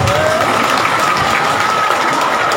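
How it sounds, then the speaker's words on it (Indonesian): Women in the audience of a humorous religious sermon burst into loud, close applause, a dense, lively clatter of many hands that holds steady throughout the brief moment. "minta khusus ibu-ibu tepuk tangan dia meriah khusus ibu-ibu."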